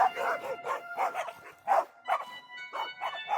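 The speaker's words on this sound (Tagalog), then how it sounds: "napansin namin na nagtatahulan yung mga aso sa labas na parang may hinahabol" Several dogs outside at night bark and howl in a rapid, repeated rhythm, the yelps close and fairly loud with short gaps between bursts.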